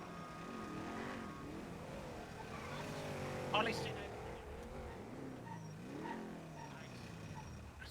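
Car engine revving in GTA V NoPixel, steady throughout with rising and falling pitch sweeps and a sharp burst near the middle, while someone talks and exclaims over it.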